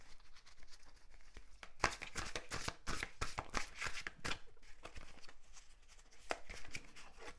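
Tarot cards being shuffled and drawn, a dense run of quick papery riffles and slaps that continues steadily and close, with no voices over it.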